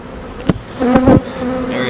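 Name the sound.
honeybees buzzing as marked queen is released into hive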